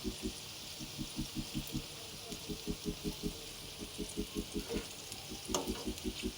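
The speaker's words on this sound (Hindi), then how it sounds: "चलें, इसको हम फ्राई होने देते हैं जब तक ये क्रिस्पी ना हो जाए।" French fries bubble in hot oil with a faint, even sizzle, a soft regular pattering pulse running under it throughout, and no talking.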